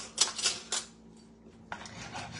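A creamy tomato sauce for meatballs is stirred in a pan on the stove: a few clinking scrapes of a metal utensil against the pan, then a quieter pause and more scraping.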